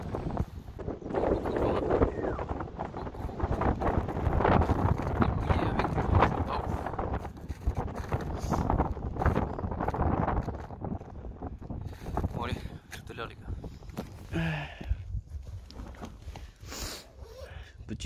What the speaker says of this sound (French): Là il y a beaucoup beaucoup de vent.